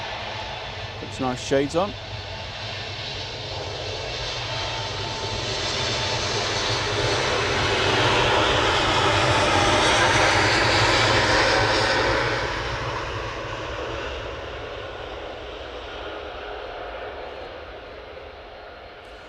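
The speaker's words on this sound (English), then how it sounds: "Lufthansa off to Munich. A320neo, looking rather smart." A Lufthansa City Airbus A320neo jet departing Manchester for Munich, its engine roar building to a loud peak and then slowly fading, with a brief voice talking over the start.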